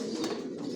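Adult Johnson-line racer pigeons on a rooftop keep up a steady, low, throaty cooing throughout, close and continuous.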